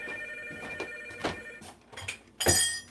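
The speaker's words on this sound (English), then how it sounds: "The phone is always going to ring!" A telephone rings in a few short, bright bursts with gaps between them, close and fairly loud, ending in a stronger final ring.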